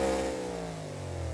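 A monster truck engine in BeamNG.Drive revs hard through tight gear ratios, with a steady, loud harmonic drone that climbs and falls without a break, and no voices.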